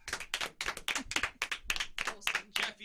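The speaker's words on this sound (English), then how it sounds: "Hey, round of applause for Jeff Burton." A single person clapping hands in a radio studio, a quick run of about eleven sharp, close claps in an irregular rhythm, with no talk over them.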